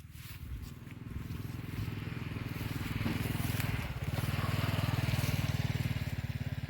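A corn harvesting machine's engine runs steadily nearby with a low, even rumble and a dense rhythmic pulsing that swells louder toward the end, out in a cornfield.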